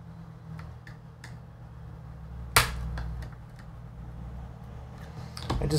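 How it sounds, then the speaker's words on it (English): A key snapping off a welded-in laptop keyboard on an HP 15-ak085na, heard as one sharp loud crack mid-clip amid scattered small plastic clicks and ticks, with a further burst of clicking at the end. "Ripped one of the keys off the keyboard."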